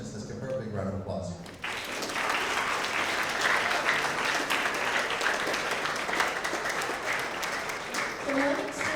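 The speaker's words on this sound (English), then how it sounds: "Let's give her a big round of applause." Elementary school assembly audience breaks into a sustained round of applause after a brief spoken introduction, steady dense clapping filling the room for about seven seconds with voices faintly mixed in.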